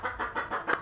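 Hen clucks in a quick series of short, close, soft calls, repeated rhythmically with no talking.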